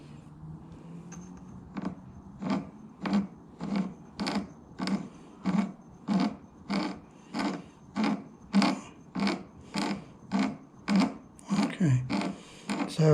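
An Emco Unimat SL lathe with a screw-cutting attachment cuts a thread while swarf comes off, giving a steady, regular series of close rasping strokes, about one each half second, over a faint motor hum.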